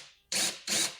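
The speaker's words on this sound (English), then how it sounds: "drill a hole." A power drill bores a hole for a soft close drawer during a mobile home renovation, with two short, loud bursts of whirring separated by a brief pause.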